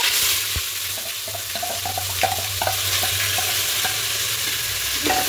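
Onion paste with whole cloves, cardamom, peppercorns, cumin, cinnamon and bay leaves frying in hot oil, a loud continuous sizzle over which a spoon scrapes and knocks against the pan in a loose rhythm.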